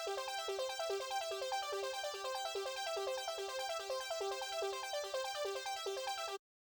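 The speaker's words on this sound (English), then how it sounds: "I have this ARP that plays in the background right before the final drop" A synth arpeggio from an electronic music production, played just before the final drop, cycles in rapid repeating steady notes over a regular pulse, alone, then cuts off abruptly.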